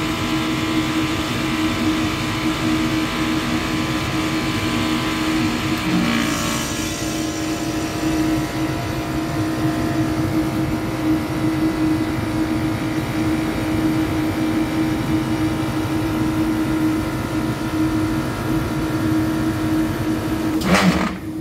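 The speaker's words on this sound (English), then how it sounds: "The compressor is tripping and the compressor is about to start." An HVAC compressor, just reset after tripping, hums steadily and loudly through the whole stretch with a strong low drone and a brief shift near the start and end, alone with no talk.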